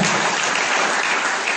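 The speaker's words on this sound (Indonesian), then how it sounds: "berikan tepuk tangan" A crowd claps steadily throughout, a dense, even burst of applause at close range.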